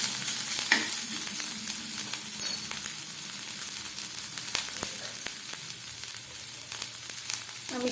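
Chopped garlic and grated ginger frying in hot oil, a steady close sizzle that runs alone the whole time, with scattered stirring clicks and one brief louder scrape.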